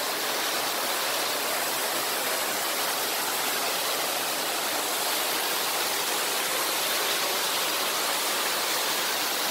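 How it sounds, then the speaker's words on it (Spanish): A waterfall at the Las Pozas pools in Xilitla, San Luis Potosí, roars as a steady, dense wash of rushing water from start to finish, loud and close with no talk over it. "aquí en las pozas del castillo"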